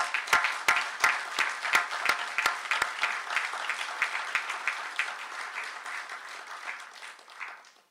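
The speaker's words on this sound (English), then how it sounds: "Please join me in a round of applause for Dr." An audience at a public health award ceremony gives a round of applause. A few sharp, distinct claps ring out over dense clapping, which slowly fades over roughly eight seconds.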